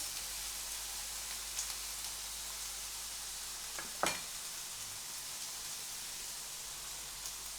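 Tomatoes, scallions and bell peppers frying in a pan for ackee, a constant hiss of sizzling oil with a sharp utensil scrape as the mix is stirred, close and steady.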